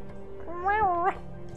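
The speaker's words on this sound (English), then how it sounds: "Meows." A single close cat meow with a rising, falling pitch sounds in the video game Night in the Woods over a low steady background.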